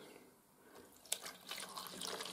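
Water runs from a tap into a tumble dryer condenser box, a faint trickle that swells into a steadier splashing fill after a sharp clink.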